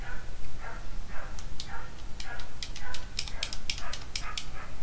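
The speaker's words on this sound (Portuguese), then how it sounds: "tem um cachorro aí que tá latindo pra caramba" A dog barks repeatedly somewhere nearby, a run of steady barks in a rough rhythm that grows quicker and denser toward the end, heard over a humming background.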